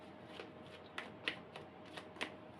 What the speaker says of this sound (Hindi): तो देखते हैं धनु राशि क्या आपके लिए कार्ड्स निकल के आ रहे हैं।